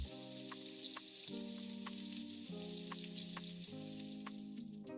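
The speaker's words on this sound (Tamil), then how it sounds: "நான் ஒரு பெரிய தக்காளி எடுத்திருக்கேன். அதையும் நல்லா வதக்கிடுங்க." Chopped tomato sizzles and fries in a pan for prawn donne biryani, a steady close crackle with faint stirring taps, and no one speaking.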